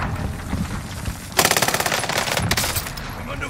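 Burst of rapid automatic gunfire from the Warzone video game, a loud fast run of shots following quieter background sound, with a few more scattered shots after it.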